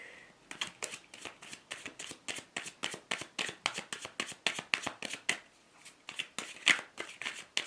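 A deck of tarot cards being shuffled close up, a rapid run of crisp riffling flicks that keeps a steady rhythm throughout at low volume, with no voice over it.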